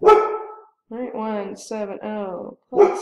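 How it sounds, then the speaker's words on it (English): A pet dog barks in a home, a single loud bark followed by a string of yappy, whining barks in close succession, near and clear, with a short bark again at the end. "That's my dog. She likes to bark."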